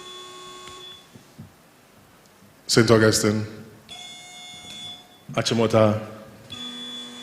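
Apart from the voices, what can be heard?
quiz contestants ringing buzzers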